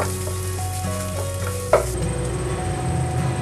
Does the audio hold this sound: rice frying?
yes